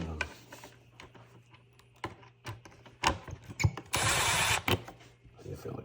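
A torque wrench tightens steering wheel bolts on a 2024 Tesla Model 3, giving close, sharp ratcheting clicks and mechanical ticks in irregular bursts, with a brief harsher grinding rasp near the end.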